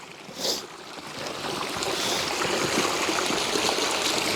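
Water rushes through a 12-inch wide gold prospecting sluice outdoors, a steady close splashing and gurgling flow with no talk.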